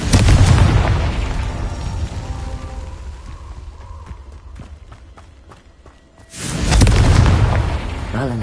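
A Confringo blasting spell from the Hogwarts Legacy video game erupts in a loud, deep boom, fades through rumbling debris and scattered clatter, then a second heavy blast surges in near the end.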